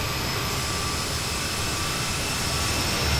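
Bombardier CRJ jet engines roaring on takeoff in Microsoft Flight Simulator, a steady, dense, loud broadband rumble with a faint high whine that holds throughout.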